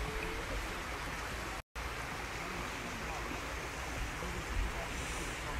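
A small stream flows steadily near Pooley Bridge, its broad, even rush of water loud and close for the whole stretch, with only a momentary break.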